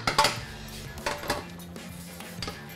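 Pot lid set onto a pan of seafood rice on an outdoor cooking setup in Portugal, giving a few light metallic clinks and clatters at close range, with no talking.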